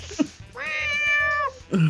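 A cat lets out one long, drawn-out meow lasting about a second, close and clear, with short scuffling sounds just before and after it.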